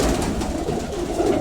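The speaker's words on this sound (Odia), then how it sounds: "ବହୁତ ପାରା ରଖିଛନ୍ତି" Pigeons kept at a house coo softly and continuously, close by, with a low murmuring texture and no talk over them.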